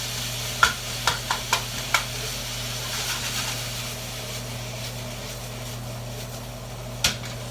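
Ground beef for Manwich sizzles in a pan over reduced heat, a steady soft frying hiss broken by a few sharp scrapes and taps of a utensil stirring it.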